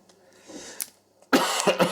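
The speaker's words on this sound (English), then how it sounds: "I'm sorry, I cough." A couple of faint throat sounds, then a loud, close burst of harsh coughing, several quick hacks in succession.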